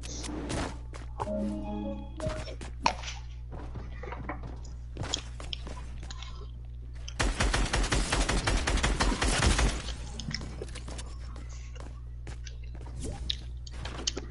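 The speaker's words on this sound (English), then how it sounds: "Wait, who's shooting at me?" Rapid gunfire in a video game, a dense burst of crackling shots lasting a few seconds over a steady low hum, with scattered clicks and quiet voices around it.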